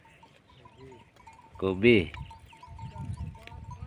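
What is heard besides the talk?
goats bleating while grazing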